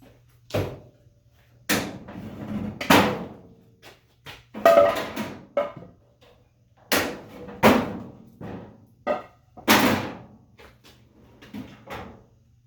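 Metal drawers are slid and fitted into a rebuilt tool box, a series of loud, close clunks, scrapes and bangs at irregular intervals with short quiet gaps between them.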